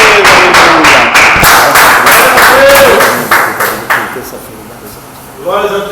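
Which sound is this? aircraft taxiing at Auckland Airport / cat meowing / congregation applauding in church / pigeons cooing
congregation applauding in church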